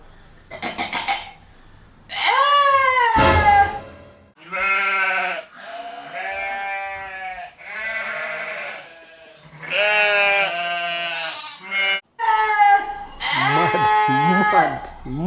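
Voiced goat bleats from a man imitating the animal: a string of loud, wavering, nasal cries with short pauses between, close and unaccompanied.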